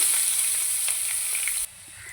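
Green chillies and finely chopped onions sizzle in hot oil with a bright steady hiss that cuts off abruptly near the end, leaving a quieter background.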